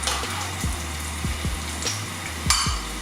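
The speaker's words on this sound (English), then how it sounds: "You want to hear that sizzle." Oil sizzling in a pan as the base for a summer tomato seafood pasta, a steady close crackle with a few brief louder bursts and low thumps of pan handling, no voices.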